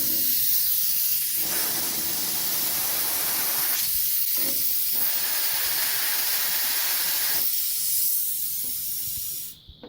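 Compressed air hisses steadily and loudly through a small portable spray mist coolant system, a broad continuous spray that wavers slightly in tone, cutting off near the end.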